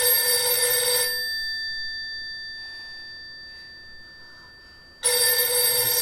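A telephone bell rings in two sharp bursts, one at the start and one at the end, separated by a long quiet gap with a faint tone hanging in between.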